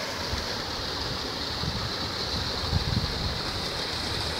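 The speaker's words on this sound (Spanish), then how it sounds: "La cascada esta es tan hermosa, muy bonita." A waterfall on the Monclova River at El Piélago in Coahuila sends up a constant broad rushing roar of falling water. It stays steady and fairly loud, with brief surges, and no voices are heard.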